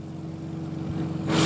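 An International 284 tractor from 1983 running at a parade, its steady low engine drone close and continuous, swelling louder with a burst of broadband noise near the end.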